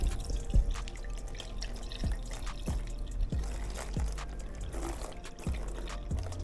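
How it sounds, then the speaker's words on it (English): Liquid is poured over the palm of a baseball glove, giving close, wet splashes and drips in a loose, repeating rhythm at a fairly quiet level, with no talk. "Just pick this up and pour it all over the palm."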